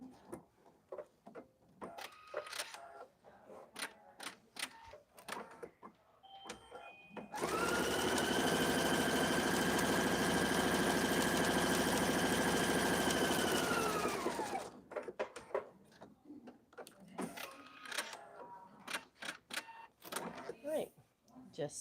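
Sewing machine running steadily for about seven seconds while quilting fabric for a zippered project bag, a loud continuous whir between stretches of clicks, handling noises and a voice talking.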